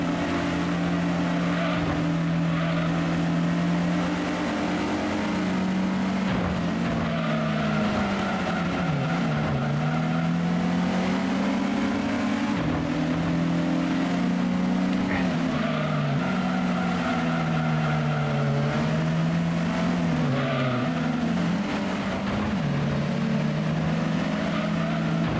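A car in the Gran Turismo racing game, with drift mode on, drones continuously at steady loud volume, its engine pitch rising and falling through gear changes and cornering, with no talk.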